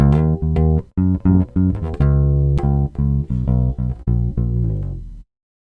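Bass guitar recorded through a direct box: a run of clean, punchy plucked notes with strong low tones, some short and some ringing longer, fading out at the end.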